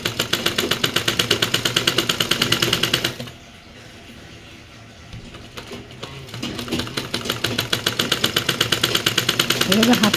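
A sewing machine runs in rapid rhythmic bursts while zigzag-stitching a kameez sleeve joint, loud and close. It pauses for a few seconds in the middle, then resumes its steady stitching.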